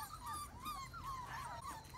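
Standard poodle puppies outside in a gazebo under trees, whimpering and yipping in soft, rising-and-falling cries, several small voices overlapping faintly and continuously.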